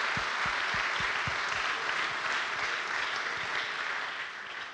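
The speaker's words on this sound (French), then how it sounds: "On peut vous applaudir" A conference audience in Paris applauds presenters from Groupe PSA, a broad sustained wash of many hands clapping at steady volume, with a few closer distinct claps early on, easing slightly toward the end.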